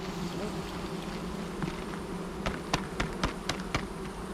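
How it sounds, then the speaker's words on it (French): Honeybees at a beehive frame give a soft, continuous buzzing hum, with a few brief sharp taps or clicks toward the end and no voices. "donc on va enlever les abeilles"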